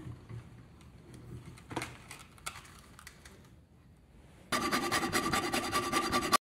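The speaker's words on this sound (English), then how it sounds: "I kind of like using the hacksaw to cut that off" A hacksaw cuts the sprue off an aluminum sand casting held in a vise. Scattered rasping strokes come first, then a loud, continuous grinding stretch of sawing, close up and alone.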